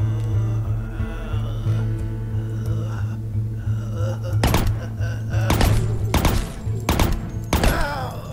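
Repeated gunfire bursts in the DevCon 2 video game, several sharp shots clustered in the second half over a steady droning background hum, fairly loud.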